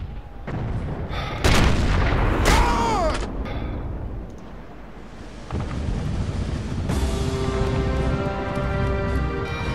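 Several loud booms and blasts crack out in quick succession in Sniper Elite, followed by a rumbling, ringing aftermath with lingering tones.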